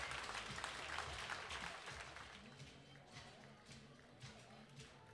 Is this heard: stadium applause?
yes